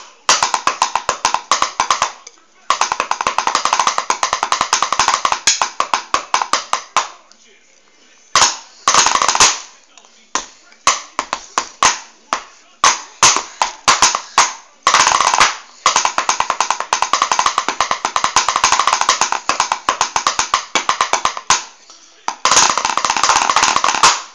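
Drumsticks rapidly playing rudiments on a practice pad from 2013, dense sharp close strokes in long fast bursts separated by brief pauses, loud and alone.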